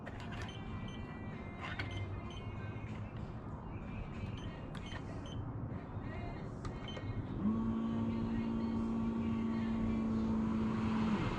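A Fresair S7i 12V air conditioner in a van kicks on partway through, adding a steady hum and airflow whoosh that sits under ongoing background noise and talk, continuing to the end.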